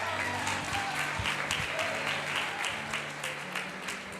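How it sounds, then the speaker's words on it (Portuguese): A church congregation gives steady applause, a continuous bed of many hands clapping at moderate volume with a low hum beneath throughout the short stretch. "Uma salva de palmas aí,"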